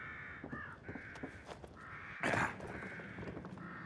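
Crows cawing in the horror game The Evil Within: a run of harsh, repeated caws at moderate distance, several overlapping calls in an irregular rhythm, with a brief louder rustle or thud near the middle and no talk.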